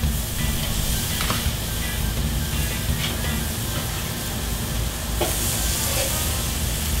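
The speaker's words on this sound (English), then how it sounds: "that's the sizzle right there that I'm looking for" Steady loud hiss of pork chops sizzling over a hot charcoal grill, continuous and close, with a few brief crackles and pops rising out of it.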